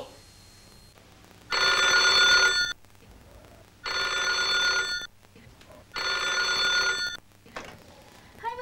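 Yupiteru cordless telephone from a 1990 TV commercial rings in three evenly spaced electronic bursts, each lasting about a second, with quiet gaps and faint background sound between them.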